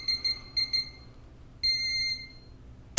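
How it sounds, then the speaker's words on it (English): A Jerk Alert trigger alarm on a firearm gives short, sharp electronic beeps in quick pairs, then one longer sustained tone, loud and close in a quiet room, ending on a sharp click. "the Jerk Alert sounding"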